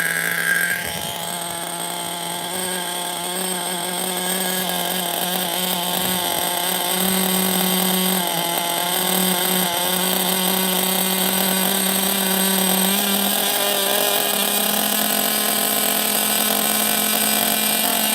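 OFNA LD3 nitro RC engine idling while it warms up, a steady high-pitched buzzing whine with a constant tone, close and loud, running alone without voices for the whole stretch.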